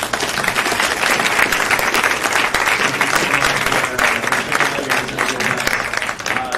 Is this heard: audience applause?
yes